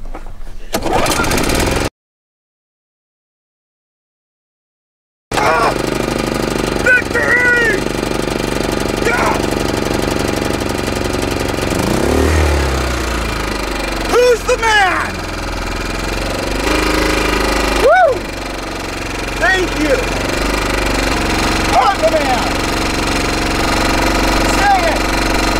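A portable generator, just repaired after sand was cleared from a small switch following a dust storm, runs steadily with a loud rough engine drone and knocking texture after a brief silent gap, and a voice speaks over it now and then.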